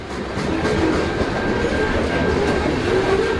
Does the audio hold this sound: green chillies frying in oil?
no